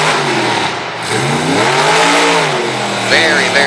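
Loud revving of a monster truck engine during a wheelie contest at a competition arena, pitch dipping then climbing in surges as the truck hits an obstacle, with an announcer speaking over the roar.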